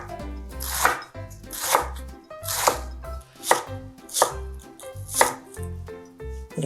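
A knife shreds cabbage on a cutting board in a steady run of about eight crisp, close chopping strokes, each a sharp crunchy thud followed by a short pause, with no voices.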